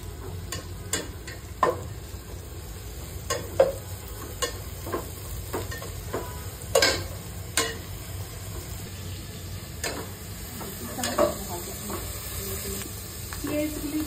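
Onions frying with a spoonful of salt in a home kitchen pan, a steady soft sizzle broken by sharp scrapes and taps of a spatula stirring, moderately close.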